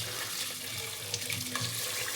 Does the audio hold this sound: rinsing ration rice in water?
yes